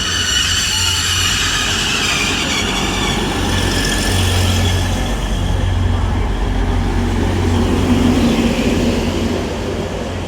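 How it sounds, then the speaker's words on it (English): An LNER Azuma bi-mode train pulls out of Doncaster station, a loud, close, sustained low rumble and engine drone with a whining hum rising as it accelerates, steady throughout with no voices. "Also departing now is 800 103, I think it was. Working the 1225 LNER Azuma service from York to London King's Cross"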